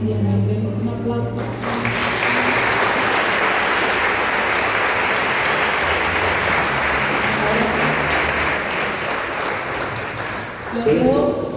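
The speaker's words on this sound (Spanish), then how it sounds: "Demos un aplauso." A church congregation gives a long, full round of applause after a prayer, a dense, even roar of clapping that rises quickly and holds steady, with speech at the start and end.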